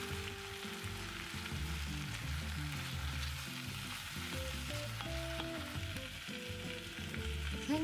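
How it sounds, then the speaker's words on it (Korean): Sliced carrots and browned onions with thyme sauté in a soup pot, a steady close sizzle and crackle running throughout beneath quiet background music. "양파가 거의 밤색이 되면 썬 당근을 몽땅 넣고 타임이나 다른 건허브를 넣은 뒤 10분 동안 볶아줍니다."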